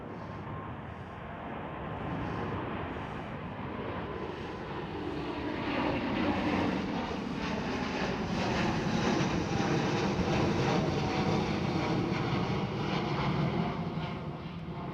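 A Delta Airlines Airbus A330-900 takes off at Amsterdam Schiphol, its jet engines building into a loud, steady broadband roar that swells and holds throughout, with no talk over it.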